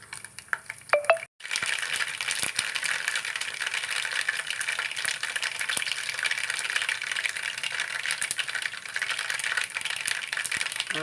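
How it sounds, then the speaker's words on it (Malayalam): Mustard seeds sputter and crackle in hot sesame oil for a lemon pickle tempering, a dense steady spatter after a brief pause near the start, with no talking. "കടുകിട്ട് കൊടുക്കാം"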